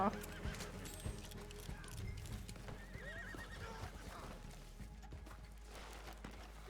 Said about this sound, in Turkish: Şu ata bir de ben bineyim o zaman.